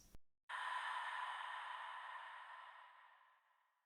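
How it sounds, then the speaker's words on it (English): A single long, breathy sampled vocal exhale used as a music production effect, heavily reverberated, trails off slowly after a brief click at the start. "Now we have another vocal effect, an exhale."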